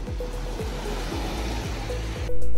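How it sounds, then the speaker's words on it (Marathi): Sea waves on Mandvi beach in Ratnagiri, facing the Bhate bridge and Bhatye sea, make a steady, loud, broadband roar of surf that continues for the whole short stretch with no voices. "हा बघा आपला समोर भाटे ब्रिज आणि हा भाट्याचा समुद्र"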